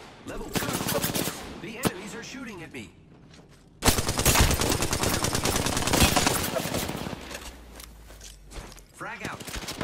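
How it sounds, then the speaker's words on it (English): Bursts of automatic gunfire from Apex Legends rattle close and loud in rapid volleys, with a short gap before a dense stretch of sustained shooting and scattered footsteps. "The enemies are shooting at me."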